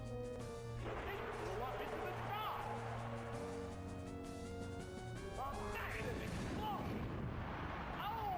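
Explosion move in the Pokémon Blue video game, a burst of noisy crashing blasts over chiptune-style game music, with a person talking over the top.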